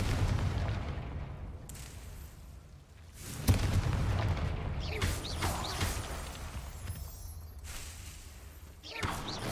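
A Confringo blasting spell goes off in Hogwarts Legacy, a sharp booming burst near the middle followed by rumbling blasts and crackle over steady game ambience, with a voice speaking briefly.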